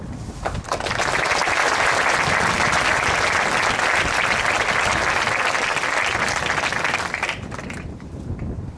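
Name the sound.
audience applause welcoming a speaker at a Veterans Day ceremony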